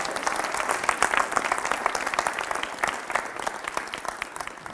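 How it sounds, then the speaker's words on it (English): A high school audience claps loudly for a coach, steady dense applause throughout with no voices on top. "Everyone give him a round of applause, loudly."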